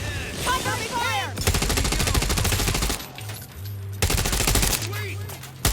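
Sustained automatic gunfire in the video game The Division Resurgence rattles in two long, loud bursts separated by a short pause, with a voice speaking just before the first.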